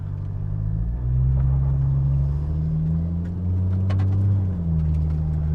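A 2JZ-swapped Nissan S15 Silvia with an 8HP70 automatic gearbox pulling away, heard from inside the cabin as a loud, steady low engine drone whose pitch rises and settles through smooth gear changes.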